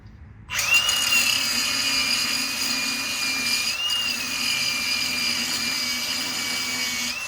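A cordless angle grinder runs continuously on the metal of a 3020 tractor, a steady high whine starting abruptly and holding with slight pitch wobbles, loud and close with no talk.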